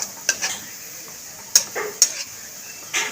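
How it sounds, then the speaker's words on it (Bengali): Onions fry in hot ghee for chicken yakhni pulao and are stirred now and then: a bright metallic scrape of the spoon against the pot sounds several times over a low, steady sizzle, with no voices. "ঘিয়ের মধ্যে পেঁয়াজটা দিয়ে পেঁয়াজটাকে বেরেস্তা করে নেব।"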